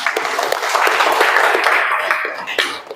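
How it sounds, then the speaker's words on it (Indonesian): Applause from a class of junior high students during a physical education lesson, a steady dense patter of clapping lasting a few seconds with a cough or two mixed in. "beri tepuk tangan untuk kita semua."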